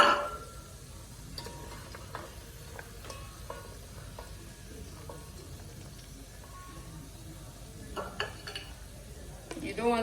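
Stew ingredients browning in a pan over lowered heat for Ghanaian waakye (Hausa) stew, stirred with a plate: soft scraping and clinking strokes over a low steady sizzle, fairly quiet and close.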